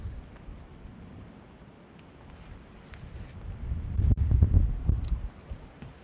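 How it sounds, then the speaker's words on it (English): Strong wind gusting over a microphone outdoors on the water during a flathead catfishing trip, a low steady rumble that swells into loud buffeting bursts in the second half. "That wind just started cranking."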